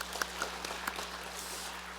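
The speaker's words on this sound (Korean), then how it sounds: "박수 한번 쳐드립니다." A church congregation gives a brief round of applause during a Sunday evening service, with scattered, fairly quiet claps over a steady low hum.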